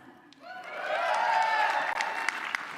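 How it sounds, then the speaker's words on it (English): An audience at a PAX East panel bursts into sustained applause and cheering that swells quickly and holds steady, with scattered whoops over dense clapping. "Thank you for cheering."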